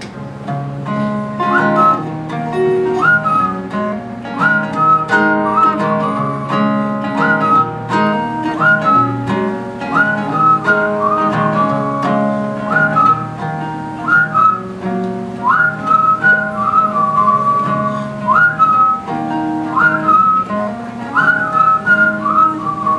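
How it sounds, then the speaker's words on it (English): A coffee house concert audience whistles a melody in unison over steady instrumental accompaniment, with rising slides and sustained notes repeating throughout. "So this will be your part."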